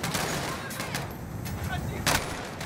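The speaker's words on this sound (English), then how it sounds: "this is probably not good to be shooting our guns in this fucking gas facility" Gunfire in a Modern Warfare campaign video game, bursts of shots echoing inside a gas facility, with sharp cracks near the start and a louder burst toward the end over a busy noisy background.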